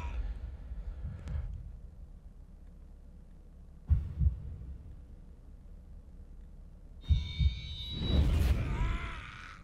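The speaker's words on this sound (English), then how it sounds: "His heartbeat's so strong it shakes the world." Heavy heartbeat thuds in the video game Code Vein, booming low pulses at intervals with a deep rumbling swell near the end, separated by quiet stretches.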